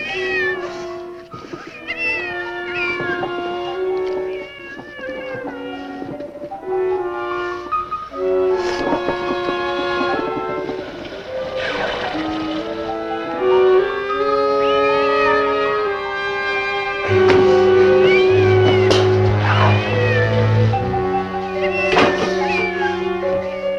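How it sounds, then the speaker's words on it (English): A cat named Frankie, stuck inside a wall, meows again and again in drawn-out, plaintive cries, loud and close, over a continuous musical score. "It's a cat"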